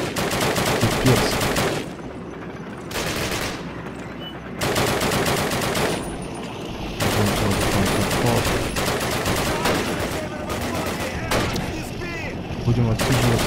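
Sustained bursts of machine gun fire in the Call of Duty video game, loud, dense rattling volleys with short gaps between them, dominating the whole stretch.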